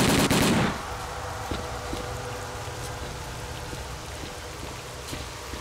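Gunfire in S.T.A.L.K.E.R.: Call of Pripyat, a loud burst at the start giving way to a series of faint, regularly spaced shots over a hissing, rain-like ambient background.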